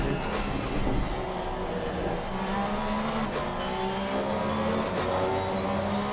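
Onboard engine of the number 199 Porsche GT3 race car in Assetto Corsa Competizione, a steady, loud droning roar whose pitch climbs and dips slightly as it runs, with no talk.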